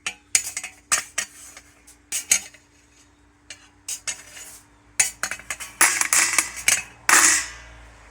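Small pewter pieces clink and clatter as they are dropped into a pot, in a string of sharp metallic knocks that grow busier toward the end, with no talking.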